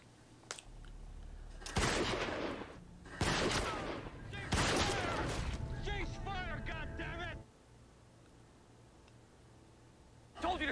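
Bursts of automatic gunfire in a World War II combat drama on Okinawa, three loud rapid volleys separated by short gaps, with voices speaking between and around the shots.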